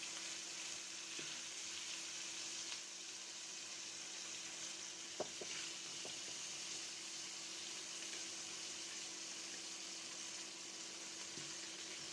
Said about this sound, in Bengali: এখন মেরিনেট করা মাছগুলো ভেজে নেব